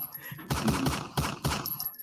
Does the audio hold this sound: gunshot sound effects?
yes